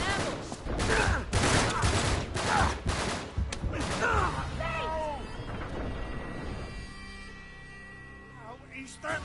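Heavy gunfire from the Uncharted 3 video game: loud, rapid bursts of shots in the first few seconds, then fading into echoing debris and voices.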